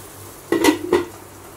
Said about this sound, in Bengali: এটা কিসের মশলা কষানো হচ্ছে বলো তো?